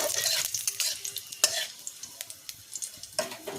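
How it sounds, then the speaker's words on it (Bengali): Panch phoron spices frying in hot oil for a raw mango chutney, a close crackling sizzle with quick stirring taps and scrapes of a spoon against the pan, no speech. "আর পাঁচফোড়ন, ফোড়নটা একটু ভেজে নিতে হবে।"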